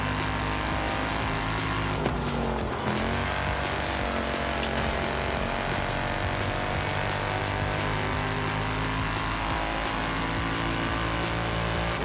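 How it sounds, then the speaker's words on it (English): Nissan Safari engine in Forza Horizon 5 drones steadily with a low-pitched rev held at high RPM, loud and continuous throughout, with a slight dip and pitch shift early on. "this engine noise is quite nice"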